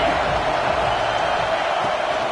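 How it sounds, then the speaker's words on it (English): A large football crowd at Happy Valley roars in a steady, dense wash of cheering and noise on a third down in a Penn State college football game, broad and continuous with no pause. "Here comes the noise from this big crowd in Happy Valley on third down."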